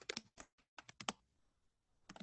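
Fingers type on a computer keyboard in quick close bursts of clicks, pausing briefly between clusters, with no talking over them.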